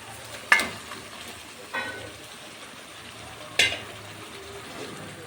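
Soaked eggs are gently stirred into sizzling masala in a pan, giving a low continuous fry hiss broken by three sharp scraping clinks of the spatula, close and alone.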